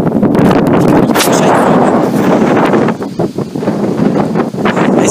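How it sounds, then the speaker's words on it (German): Strong wind at a railway line in Rosenbach buffets the microphone with loud, roaring rumble that barely lets up, briefly easing before gusting again. "Es ist so krass windig"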